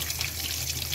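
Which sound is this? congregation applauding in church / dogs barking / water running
water running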